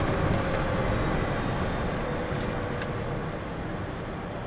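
A simulated turboprop engine in a flight simulator, its propeller being feathered, gives a loud, steady, broadband drone that holds nearly constant throughout, with no voices.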